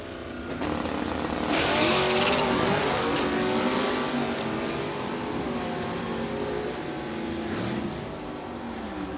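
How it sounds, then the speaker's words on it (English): A 1967 Corvette and other stock-class cars racing on a drag strip: loud engines roar and rev at close range, a sharp burst of acceleration, then a sustained drone under a steady blend of traffic noise, no talking. "and now Brett Sauerball's 67 Corvette, the AA stock with a stick, and the G-Stock automatic."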